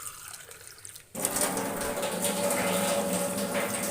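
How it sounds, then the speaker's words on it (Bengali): A glass of water pours steadily into a pan of vegetable curry after a brief quiet start, a continuous close splashing rush that holds for several seconds. "এরপরে আমি এই এক গ্লাস জল এখানে অ্যাড করে দেবো"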